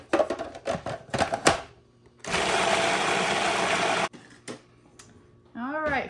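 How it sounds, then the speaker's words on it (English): A blender whirs loudly for about two seconds, blending cottage cheese and eggs until smooth, with a steady, buzzing roar; a person talks before it starts and again after it stops. "I'm going to blend this together until it's smooth and creamy."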